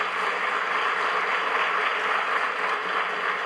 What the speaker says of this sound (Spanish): nosotros brindamos ese fuerte aplauso